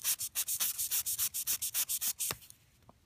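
Wet sanding on an acrylic watch crystal, about a dozen quick, regular rasping strokes in steady rhythm, close up, then a pause and a couple of faint taps.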